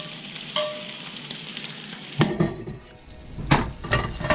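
Chicken piccata sauce sizzles in a saucepan while a spoon scrapes and stirs it, with a steady frying hiss broken by a few sharp clinks against the pan near the end.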